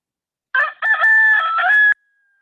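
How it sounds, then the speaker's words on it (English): A rooster crows at an FFA rooster crowing contest at a state fair, one close, loud cock-a-doodle-doo lasting about a second and a half with a brief break near the start, heard alone. "one of the popular contests was the FFA rooster crowing contest"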